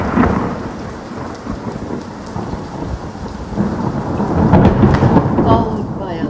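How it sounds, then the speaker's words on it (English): Thunder booms and rolls loudly through a storm, with heavy rain pouring steadily underneath and swelling louder toward the end. "Followed by a loud crack of thunder."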